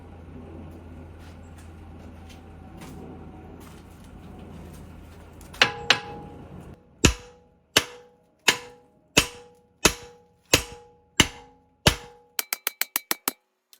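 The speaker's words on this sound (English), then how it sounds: "I may just have to bang it with a hammer until it comes out." Steady low rumble, then sharp metallic bangs as a hammer strikes a front lower rear control arm on a 2012 Mercedes S-Class W221, one at a time at a steady pace, ending in a fast flurry of quick taps.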